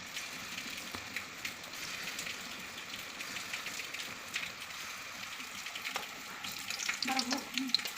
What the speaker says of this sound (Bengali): আমার লাল লাল করে ভাজা হয়ে এসেছে